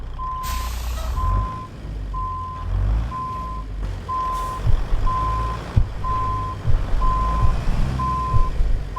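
A truck backs a trailer in American Truck Simulator on a rainy Montana delivery, its reversing beeper pulsing steadily over a low diesel idle, with sharp air-brake hisses near the start and soft thuds later.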